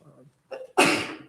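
A brief murmur of voice gives way to a sharp, breathy sneeze, close and fairly loud, tailing off quickly.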